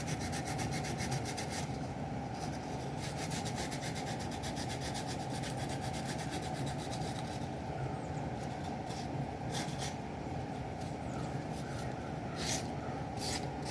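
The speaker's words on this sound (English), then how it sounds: "I can even take my screen sand this down a little bit." Sanding a small wooden keepsake by hand with a sanding screen: faint, close, gritty rubbing strokes in a quick back-and-forth rhythm, with a few brief scratchy bursts toward the end.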